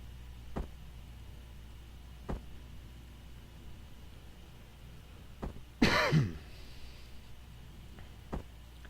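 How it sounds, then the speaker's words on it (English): A smoker coughs close to a microphone, one loud harsh cough burst standing out among several short faint throat clicks and clears over a quiet hiss. "I do apologize for coughing into the microphone so much."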